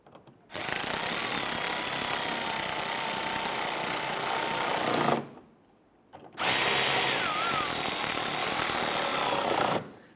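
A power tool driving bolts on the windshield washer reservoir of a 2015-2020 Cadillac Escalade: two loud, close, sustained whirring runs of several seconds each, separated by a short pause, no talking.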